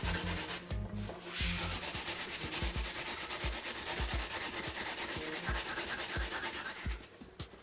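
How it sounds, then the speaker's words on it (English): Peeled yam being grated on a grater while making Jamaican sweet potato pudding: rhythmic, scraping rasps in repeated strokes, close and fairly quiet, with no speech. "You have to grate that yam"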